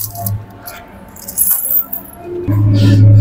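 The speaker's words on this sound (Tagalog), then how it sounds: "Ang bigat ng barya." A heavy handful of coins jingles and clinks in irregular bursts, fairly loud and close, with a low hum coming in near the end.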